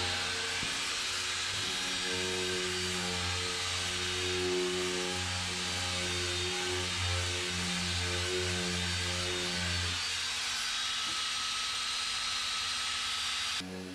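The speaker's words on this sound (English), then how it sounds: "he's going to take over sanding on this side of the hull" Power sanding on a boat hull during fairing work: a loud, continuous droning whine with a steady hum that runs nearly unbroken before cutting off at the end.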